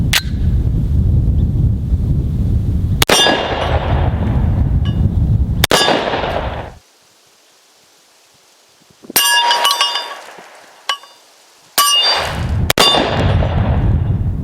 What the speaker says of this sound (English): The extreme weight of this gun makes one-handed shooting of the 44 Magnum pretty easy.